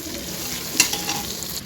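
A spoon stirs masala in a frying pan for a moment, with a steady sizzle underneath and one sharp scrape of metal against the pan near the middle.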